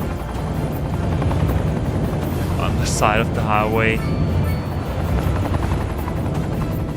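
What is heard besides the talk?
helicopter in the video game Cities: Skylines 2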